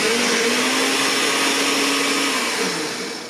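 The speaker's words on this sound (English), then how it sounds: "Next step is to put everything in the blender and" A countertop blender whirs continuously as it purees thick protein pancake batter, a loud dense motor roar with a low steady hum that holds, then begins to fade as it winds down.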